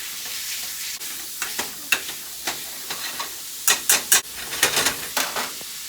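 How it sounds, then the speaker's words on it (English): Ground beef browns in an oiled pan with a steady hiss, broken by loud intermittent scraping and clacks from a utensil breaking up the meat. "we're really gonna brown my ground beef"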